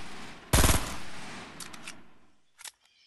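A video game gunshot cracks out as one loud burst of rapid shots, then fades into a ringing tail, and a softer pair of shots follows near the end.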